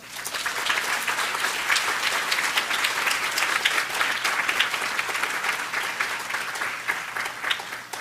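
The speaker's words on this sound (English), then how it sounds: "you all deserve an incredible round of applause" Sustained applause from an audience at the 2023 Global New Venture Challenge finals, a university startup competition event, filling the room steadily for about eight seconds with dense, even clapping and no talk.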